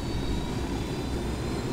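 Steady droning airplane engine in Ghost Recon Wildlands, a continuous broadband roar with low rumble filling the whole moment, loud and unbroken with no voices.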